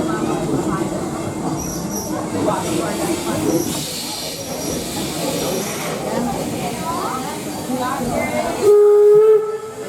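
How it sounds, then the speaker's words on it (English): The Torch Lake Number 3 steam train at Greenfield Village rumbles and clatters loudly on the rails, then its whistle sounds a strong, steady tone near the end. "Please remain seated until you hear the whistle"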